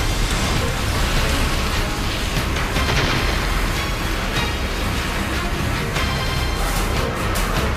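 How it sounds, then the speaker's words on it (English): Missile explosions lighting up the sky during a Desert Storm air battle, heard as a continuous loud, rumbling roar of blasts with a dense noisy texture that holds steady for the whole stretch. "Three huge explosions light up the sky."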